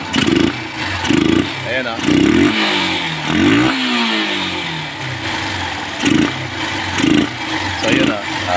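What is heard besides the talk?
motorcycle engine revving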